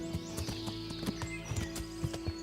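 Horse hooves clip-clop at a walking pace along a woodland path in the video game Kingdom Come: Deliverance, a regular train of soft thuds under a faint steady background hum, with no talking.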